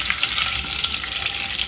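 Cloves, cardamom, cumin seeds and bay leaves sauté in hot oil in a pan over a low flame, a constant close sizzle with faint crackles from the spices and no talk.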